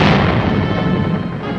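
Cannon fire from British naval guns sinking a fleet of ships on Lake Champlain: a loud, dense booming roar that rolls on continuously and slowly fades, with no distinct separate shots.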